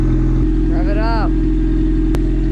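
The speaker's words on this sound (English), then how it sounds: "Rev it up." A Honda Civic wagon engine with an exhaust needing repair idles with a steady low drone, then revs briefly once in a rising and falling sweep before settling back to idle; a voice speaks over it.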